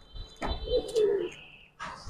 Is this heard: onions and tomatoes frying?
no